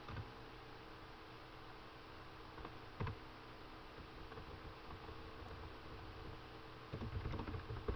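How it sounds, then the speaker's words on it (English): Computer keyboard typing at a low, steady level, with soft continuous clicking and a few louder key strikes, over a background hiss. "Sorry about the typing, guys."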